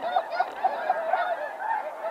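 Snow geese honk in a steady, overlapping chorus during a goose hunt, a dense flock calling continuously and clearly with no voices over them.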